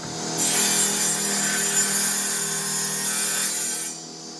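A power tool trims one edge of laminated plastic cutting boards for a miller's table, producing a loud, steady cutting whine that starts abruptly, holds for about three and a half seconds, then drops away.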